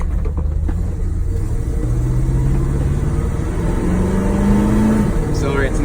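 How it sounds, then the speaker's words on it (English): A 1968 Dodge D200 pickup with a 318 V8 pulls away under acceleration, its engine rumble rising in pitch through the gears while road noise fills in behind, heard from inside the cab. "Accelerates nicely, 318. It's not going to win any drag races, but it's a good strong motor and sounds and runs great."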